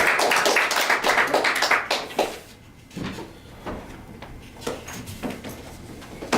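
Applause from a small audience at a Toastmasters club meeting, dense clapping for about two seconds that thins into scattered claps and a few knocks, then fades to quiet room noise with sporadic taps.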